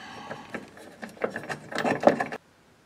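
A ratchet works a bolt out of a bracket on the aluminum gas tank skid of a Jeep Wrangler JKU: a run of close, rasping clicks that quicken and grow louder before cutting off abruptly.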